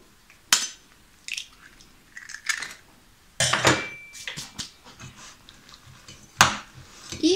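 Small eggs cracked one after another into a bowl while making a flourless cheese casserole, a few sharp taps and clicks against the rim with soft wet drips between them, close and fairly quiet.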